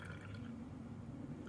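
Old Stock beer, aged in a basement and low on carbonation, pours from a bottle into a glass, a quiet close gurgle and drip lasting only a moment.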